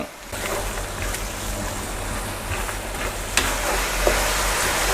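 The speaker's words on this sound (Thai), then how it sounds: "พอน้ำตาลละลายให้เราใส่ซีอิ๊วขาวลงไป แล้วก็ให้เราเคี่ยวต่อไป รอจนกว่าน้ำจะแห้ง" A sugar and white soy sauce mixture simmers and bubbles steadily in a pan, a continuous close sizzling hiss with a couple of faint clicks, no voices.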